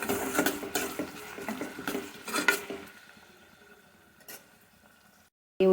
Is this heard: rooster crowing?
no